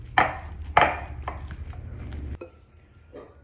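A pastry blender chops boiled eggs in a bowl with two heavy thuds followed by lighter chops and scrapes, then a quieter clatter near the end.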